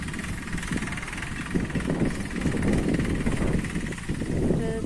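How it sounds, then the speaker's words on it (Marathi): A farm tractor engine rumbles steadily in a rice field, a continuous low mechanical drone with a rattling texture, moderately close and unbroken throughout with no speech over it. "आणि हे बघा गरागर गरागर गरागर चाललाय ट्रॅक्टर फिरवायचा"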